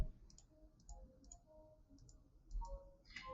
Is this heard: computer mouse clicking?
yes